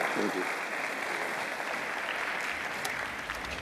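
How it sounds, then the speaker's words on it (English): A steady, sustained round of applause fills a hall after a keynote session at the World Energy Congress 2016, with a voice briefly audible near the start. "Let's give a nice round of applause."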